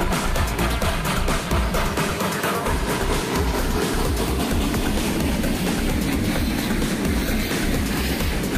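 Czech steam locomotive 433 001, nicknamed Skaličák, on a steam excursion near Lednice, giving a steady, loud rolling rumble with rhythmic clatter throughout, no voices.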